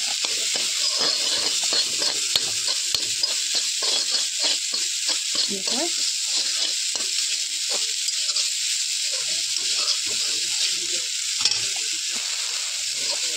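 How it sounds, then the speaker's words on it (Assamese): Grated coconut fries in a pan, a loud continuous hiss with scraping, stirring strokes throughout, recorded close up. "নাৰিকলটো ভাজি লওঁ।"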